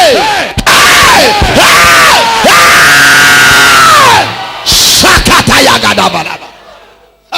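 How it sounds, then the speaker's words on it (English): A church congregation in Kaduna State shouts loudly together in long, sustained, distorted roars, with repeated whooping cries. It breaks off briefly, then surges back in a burst before fading out. "The shouting sound is the winning sound."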